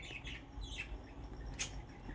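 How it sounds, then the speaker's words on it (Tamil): A small male finch makes a few short, high chirps and squeaky calls at close range in a quiet room, brief and uneven in rhythm. "இது பின்சஸ் பறவை."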